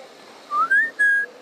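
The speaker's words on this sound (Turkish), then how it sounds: "Vallahi genelde ıslık çalar." A parrot whistles alone, close and clear: a short rising whistle followed by two longer sustained notes, with a little room noise behind.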